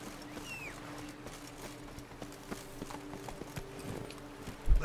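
Steady clip-clop of horse hooves in The Witcher 3, a rhythmic, moderately loud trotting that runs throughout with no talk over it.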